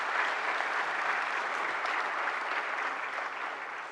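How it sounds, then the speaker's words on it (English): An audience at the National Intellectual Property Conference 2023 applauds in a steady, dense wash of clapping that holds for the whole stretch and fades slightly at the end. "give a huge round of applause"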